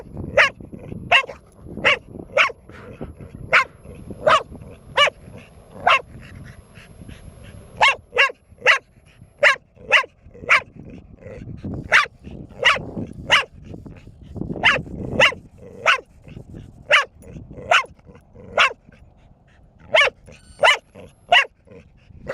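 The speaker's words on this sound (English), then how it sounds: "how long she would just go and bark and bark and bark" A four-year-old dog barks over and over in a loud, close, regular series of sharp single barks, a short pause partway through, then the steady barking resumes.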